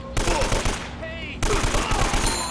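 Rapid bursts of gunfire in Uncharted: Drake's Fortune, loud and close, with a brief lull mid-clip before the shooting resumes in dense repeated cracks.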